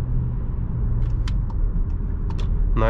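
A heavy car in comfort mode accelerating at full throttle, a steady deep engine rumble heard from inside the cabin with a few small clicks and rattles and a brief higher whine near the end.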